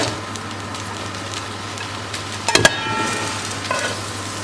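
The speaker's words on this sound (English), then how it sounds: "I'm going to saute these with some oil and" Around one and a half medium onions sauté in oil in a pan, a steady close sizzle over a low hum, broken by a brief loud clatter of stirring midway.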